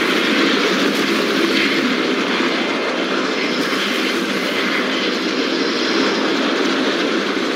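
In the zombie video game No More Room in Hell, a helicopter arriving gives off a loud, steady mechanical roar that fills the scene without letup and no voices are heard.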